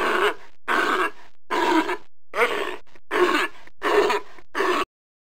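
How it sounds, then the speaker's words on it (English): A sea lion barks in seven evenly spaced, gruff, throaty bursts, close and clear, ending abruptly in silence. "Sea lion."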